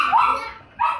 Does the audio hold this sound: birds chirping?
no